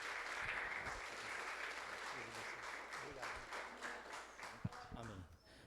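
A church congregation claps during a worship service, steady rhythmic clapping sustained for several seconds, moderately distant, with voices underneath.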